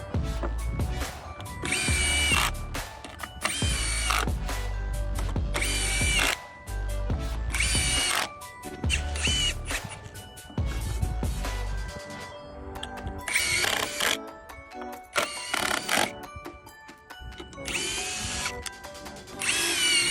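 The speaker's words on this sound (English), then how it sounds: "Screwing two wood pieces together perfectly is something construction workers can find challenging" A power drill drives screws to join two pieces of wood, in repeated loud bursts of whirring and ratcheting separated by short pauses, with no talking.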